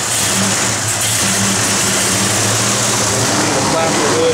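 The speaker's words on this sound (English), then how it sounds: "We'll have Jay jump in and fire it up" A 1970 Chevrolet Chevelle SS engine runs at a steady idle with a deep low burble, close and loud, under a strong broad hiss, with a voice talking over it.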